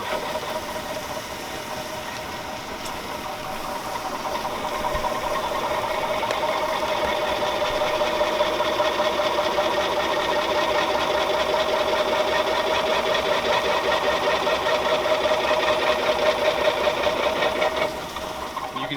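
A Bravo EVO ice cream machine churns banana rum ice cream at high speed, its motor giving a steady, loud mechanical hum with a fine rattling texture that builds slightly and holds.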